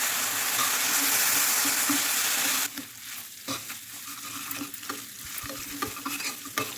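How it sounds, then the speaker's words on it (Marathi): Sugar and water are stirred in a wok to make Mathura peda, a steady scraping and sizzling texture that is loud at first, then drops to softer stirring with clicks of the spoon against the metal. Nobody speaks. "याच्यामध्ये टाकून घेते मी थोडंसं पाणी एक ते दोन चम्मच पाणी टाकून घ्यायचं आणि आता मी साखर हलवत राहायचं"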